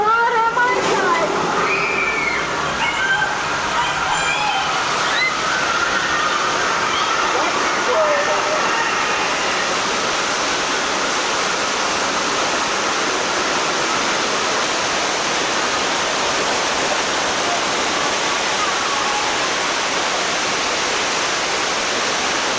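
Torrents of rushing water roar from a flood effect on the Universal Studios California tour ride in 1992, a loud, steady wash. Faint crowd voices can be heard early on.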